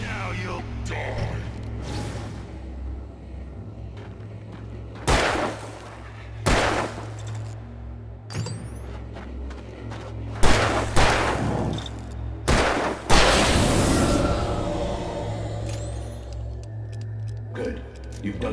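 Gunshots from Alan Wake Remastered ring out as several sharp, loud cracks spread across the stretch, some in quick pairs, over a droning game soundscape with voices talking.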